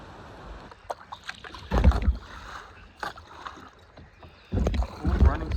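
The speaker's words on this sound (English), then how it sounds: "Here we go, running some rapids." A kayak runs river rapids in Southern Ontario, the water rushing and splashing in bursts with paddle strokes, gurgles and heavier surges close by.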